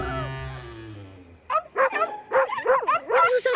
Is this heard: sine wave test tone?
no